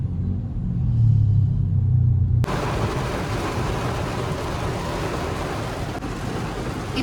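Road traffic heard from a motorcycle on EDSA on a Thursday morning: a low engine-and-road rumble gives way to a loud, steady broadband wash of passing vehicles and wet road noise, with no talking.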